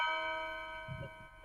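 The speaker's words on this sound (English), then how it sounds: "Chimes came out." Chimes ringing softly with a sustained, fading metallic tone that lingers through the moment, while a brief low murmur of voice appears beneath and a fresh strike sounds near the end.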